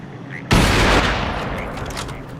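A sudden burst of video-game gunfire erupts after a moment of quiet and rolls into a loud, sustained crackle of rapid shots that slowly tapers off.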